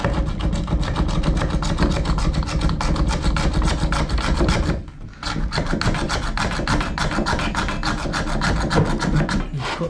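A hand saw cuts plastic waste pipe during a bathroom strip-out. Steady, rapid rasping strokes run close and loud, with a brief pause midway before the sawing resumes.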